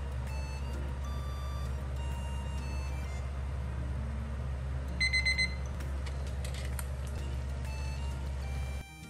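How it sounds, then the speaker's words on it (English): A kitchen timer goes off during Japanese sea bream cooking, giving a quick run of four faint high beeps that rise briefly over a steady, loud low hum. "So use a kitchen timer to keep track of the time."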